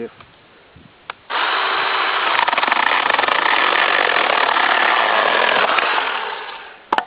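A cordless battery chainsaw cuts through a thin branch about 40 mm thick. Its whine starts abruptly after a brief pause, holds loud and steady for about five seconds, then fades as the cut finishes.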